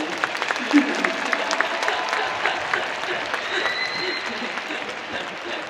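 Steady applause from an audience at a Busan International Film Festival open talk for the film Broker fills the space, a sustained wash of clapping at moderate volume with some voices mixed in.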